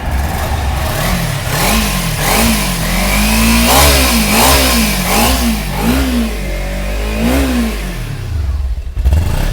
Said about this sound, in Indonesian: langsung saja akan ku cek sonin untuk suara mesinnya ya bang